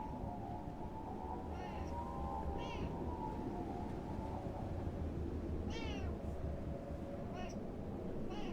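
Cat meowing in The Last Caretaker video game, several short meows scattered over a steady low ambient drone, moderately faint.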